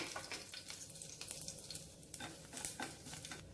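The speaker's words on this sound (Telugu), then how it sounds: "పోపు దినుసులు వేగిపోయాయి" Tempering spices of fenugreek, mustard seeds and urad dal fry in hot oil, a faint, close, steady sizzle with scattered crackles and pops, alone without talk.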